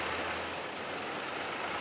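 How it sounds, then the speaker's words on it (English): A car engine idles smoothly, with an even, steady broadband rumble close by and no speech. "Our engine right now is running smooth."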